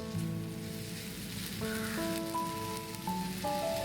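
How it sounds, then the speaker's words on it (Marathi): Paneer and vegetables stir-frying in a pan give a steady, soft sizzle throughout, with sustained music tones playing over it. "हे सगळं तर स्टर फ्राय करायचं आहे"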